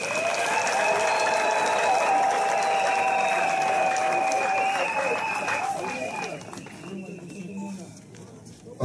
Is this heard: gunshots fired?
no